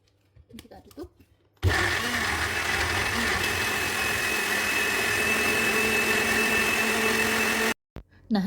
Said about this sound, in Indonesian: Selanjutnya akan saya blender sisa singkongnya.